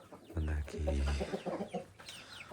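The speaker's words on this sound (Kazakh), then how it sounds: "Мына менің австралоп тауығым" An Australorp hen in a backyard chicken coop gives a short run of close, throaty clucks, with a brief quieter call near the end.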